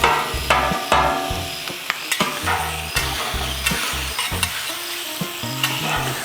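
Philly-style sandwich meat is chopped and fried on a Blackstone griddle, a constant sizzle punctuated by rapid rhythmic metal spatula scrapes and clacks against the flat-top, with no voices.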